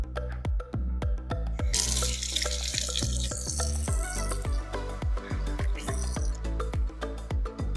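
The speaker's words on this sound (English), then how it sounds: "Let me wash my hand." Water runs from a kitchen tap as hands are washed beneath it, a loud continuous splashing stream with rhythmic low thumps throughout, no talking.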